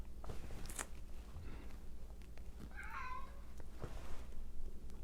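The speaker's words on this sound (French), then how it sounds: "Mon chat sonne à l'appel." A house cat gives one short meow midway through, set against steady room noise with faint clicks and knocks around it.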